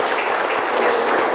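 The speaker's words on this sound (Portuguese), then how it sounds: "Vamos aplaudir então a Deus pela vida dessas pessoas também" A church congregation applauding, dense continuous clapping from many hands filling the room at steady loudness, with no voices over it.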